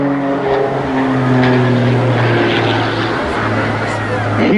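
A composite aerobatic display aircraft performs at a seaside airshow in Teignmouth, producing a loud, continuous engine drone with a steady tone that shifts slightly in pitch as it flies its manoeuvres.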